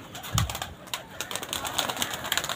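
Faint pigeon sounds with soft wing flaps and scattered clicks and taps over a quiet background, irregular and fairly close, no speech.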